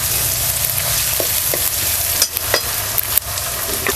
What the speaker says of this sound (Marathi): लसणाचं वगैरे कच्चेपणा जवसपर्यंत आपल्याला हे परतून घ्यायचं